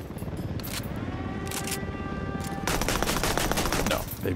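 Automatic gunfire in the video game Ghost Recon Wildlands, dense rapid bursts throughout, growing louder and busier in the second half, with a faint voice in the background.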